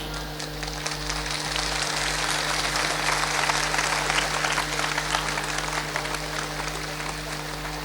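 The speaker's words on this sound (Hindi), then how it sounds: "आप लोग सब तालियां बजाइए।" An audience at a Sahaja Yoga gathering claps just before a bhajan. The applause is a dense, steady wash of many hands that holds at an even level throughout.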